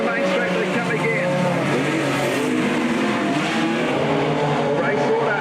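Modified sedan race cars roaring down the main straight at a night meeting at Albany Speedway, a continuous loud engine drone with rising and falling revs, under a commentator's voice.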